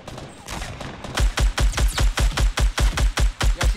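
SCAR rifle fire in Fortnite rings out in an even, rapid string of about a dozen loud, close shots, each a sharp punchy crack, with no talk over it.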